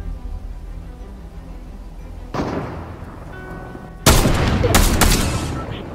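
Gunfire in Fortnite, with a distant burst first and then a loud cluster of close sniper and rifle shots cracking near the end over low game ambience.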